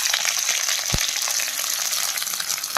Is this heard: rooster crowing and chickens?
no